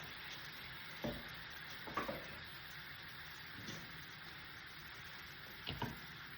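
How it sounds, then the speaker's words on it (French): Cream sauce with frozen fish gets stirred in an All-Clad pan: a faint, steady low sizzle with a few soft spoon knocks and scrapes scattered through, quiet and without talk. "On mélange bien toute notre préparation."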